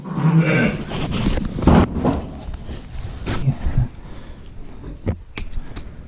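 Sheep bleat repeatedly in a noisy farmyard during tagging and shearing, several calls overlapping amid shuffling and background commotion.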